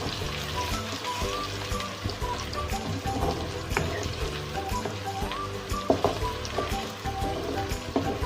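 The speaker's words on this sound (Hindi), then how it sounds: "तो दालचीनी को मैं 2 मिनट के लिए फ्राई करूँगी।" Cinnamon sticks, black peppercorns and bay leaves fry in hot oil with a steady close sizzle and crackle, with occasional light clinks from stirring in the pan.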